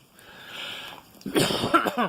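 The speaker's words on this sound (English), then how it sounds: "Cough, cough." A short cough or two, close by, following a stretch of quiet background hiss.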